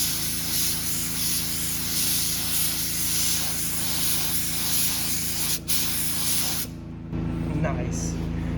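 A spray paint can that has lost pressure lays down a coat with a loud, steady, close hiss that runs almost continuously, breaks off briefly, then resumes with a duller hiss near the end.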